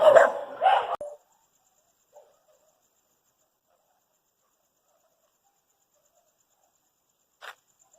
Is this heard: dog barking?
yes